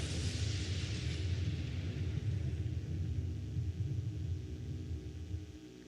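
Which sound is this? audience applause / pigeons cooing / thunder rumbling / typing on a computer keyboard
thunder rumbling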